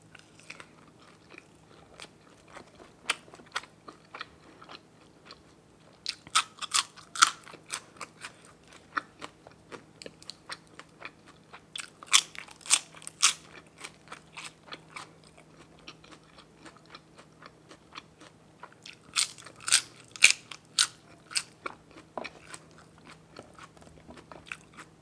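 Someone eating Isaan sausage with fresh chili and ginger, close, intermittent bites and crunchy chewing in clustered bursts separated by quieter stretches, with no talk.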